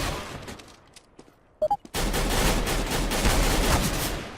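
Gunfire in the video game Counter-Strike: Global Offensive: a few sharp separate shots, then a dense, sustained burst of loud shooting that fills the rest of the clip.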